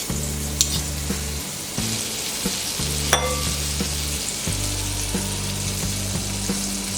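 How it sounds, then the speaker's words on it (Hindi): A tablespoon of butter melts in a hot pan on a gas stove for white sauce pasta, giving off a continuous close sizzle with a few small pops and taps and a low hum beneath, no voices. "पैन में डालेंगे ये 1 टेबलस्पून बटर"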